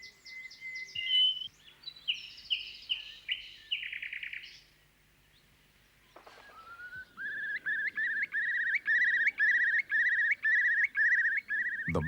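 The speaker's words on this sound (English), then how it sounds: "This is the song of the nightingale." A nightingale sings alone and close, spaced phrases of whistles and rapid trills, a short pause, then a long run of loud, evenly repeated chirping notes.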